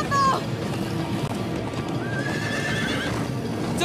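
Horses gallop with steady clip-clop hooves and let out a whinny near the start, in a Minecraft game scene; the hoofbeats run continuously and loudly throughout.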